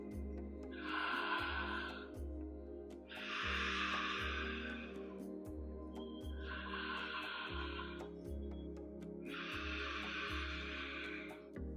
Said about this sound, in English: say you are breathing with your open mouth